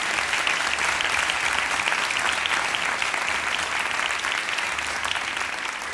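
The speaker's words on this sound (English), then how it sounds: "round of applause for Sayyid Ammar." An audience gives a round of applause at the close of a youth lecture, a steady, dense clapping that holds at even strength for the full stretch with no talk over it.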